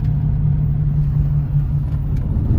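Car interior engine rumble while driving through the town of Uvarovo on a summer evening, a steady low drone close and loud, no voices.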